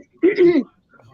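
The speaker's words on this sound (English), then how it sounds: "Trying to clear it. I can't clear my throat." A short, harsh throat clearing, close and fairly loud, lasting under half a second, followed by faint background murmur.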